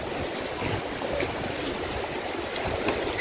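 Rushing rapids on the Alaknanda river during white-water rafting, a loud, continuous churning roar of turbulent water with splashes against the raft and no talk.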